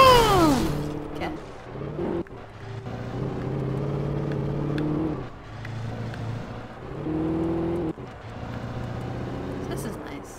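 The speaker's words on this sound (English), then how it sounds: "Let's go for a nice drive." Truck driving in the video game Alan Wake, its engine droning and rising in repeated surges with brief drops between, loud and continuous, while a voice talks over it.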